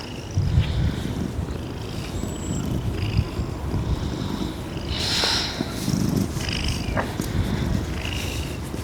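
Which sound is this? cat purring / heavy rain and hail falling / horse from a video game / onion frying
cat purring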